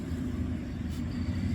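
A semi truck's engine strains against locked trailer brakes, a short, steady, low rumbling drone at moderate level with no voices.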